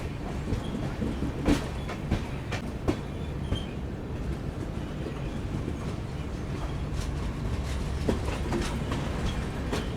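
Vikramshila Express train rolling onward just after departing Kiul Junction, a steady rumble of rail cars with rhythmic wheel clatter and occasional sharp clicks over track joints, continuous and fairly close throughout, no voices.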